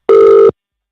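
An outgoing phone call rings once: a short, loud electronic ringback tone lasting about half a second, then silence.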